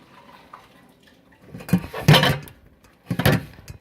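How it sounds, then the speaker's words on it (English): Hot cooking oil is poured from one pan into another on a stovetop, with faint clinks and a few brief splashy, clattering bursts of metal and liquid. "I'm just pouring this into another pan."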